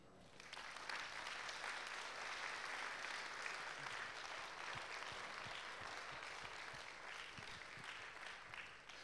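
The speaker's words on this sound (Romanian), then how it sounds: "Acum aș vrea să vă rog să vă aplaudați." Sustained applause from a large gathered crowd, loud and dense with clapping throughout, rising quickly at the start and holding steady to the end without speech.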